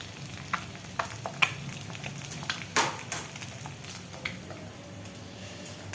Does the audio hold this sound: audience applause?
no